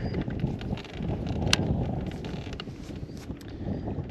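Wind gusts across open water around a bass fishing boat, a steady rough rush and rustle with faint clicks and knocks, no voices.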